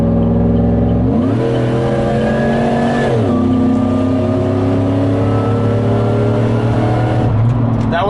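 A big old truck running a custom engine tune accelerates hard nearby; its engine note climbs steadily, drops at a gear shift, then pulls up again, loud and close.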